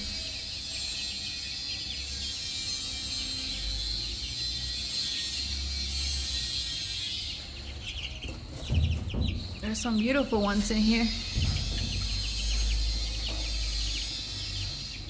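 Young chicks peep and cheep in a short burst amid chicken sounds and insect chirping, with a person talking nearby.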